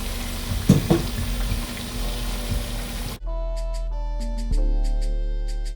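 Plantain slices frying in hot oil for tostones, cooked until golden and crispy, give a dense, steady sizzle for about three seconds before music abruptly takes over the rest.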